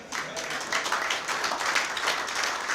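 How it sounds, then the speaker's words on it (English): An audience at a ceremony marking the change in chairmanship of the ECCB Monetary Council gives a round of applause, a soft, steady patter of many hands heard somewhat distantly. "Let me join the Governor in asking you to give another round of applause to them."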